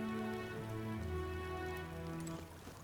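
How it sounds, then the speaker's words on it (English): Steady rain hisses continuously at low volume in the video game Metaphor: ReFantazio, with sustained musical tones running on top of it. "it's raining now."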